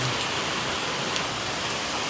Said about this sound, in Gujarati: આમ જો તો ખરી આવો વરસાદ પડે, જોયો ધીમો પડી ગયો.